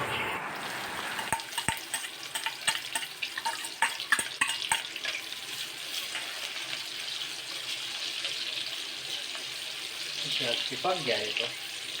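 Oil heats and fries in a kadhai for a paneer dish, giving a continuous hissing sizzle with scattered sharp crackles and pops and some watery splashing, steady and close throughout.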